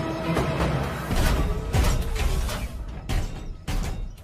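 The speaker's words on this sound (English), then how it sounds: "Open the door." A heavy door grinds and thumps open in a short run of loud mechanical clanks and thuds, with no speech.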